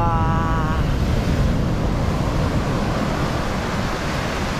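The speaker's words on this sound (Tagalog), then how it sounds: "lalaki ng alon, grabe." Big ocean waves crashing on a beach in Aurora Province, a loud continuous roar of surf mixed with wind buffeting the microphone.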